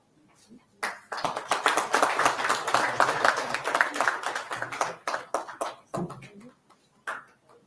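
Clapping from an audience at an industry–institution summit, honoring an academic; it starts after a quiet moment, builds into a dense round of hands for several seconds, then thins to scattered claps and fades.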